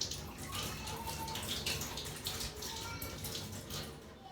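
Tap water runs steadily into a container while water is being changed, a soft continuous splashing and trickle heard close by.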